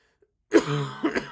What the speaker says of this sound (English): Tail end of this sickness gave me a nice lingering cough